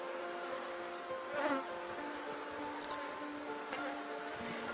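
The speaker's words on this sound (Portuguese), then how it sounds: "O enxame que tá muito bom, tá bonito." Honeybee swarm buzzing during a beehive inspection: a steady, fairly faint, continuous drone of many bees close by, with a few brief clicks and louder passes over it.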